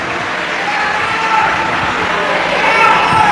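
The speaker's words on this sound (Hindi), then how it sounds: "एक बार इनके लिए जोरदार ताली बजाओ" Loud, sustained applause from a large crowd at a Shiv Mahapuran religious katha gathering, a dense continuous wash of clapping that swells slightly toward the end.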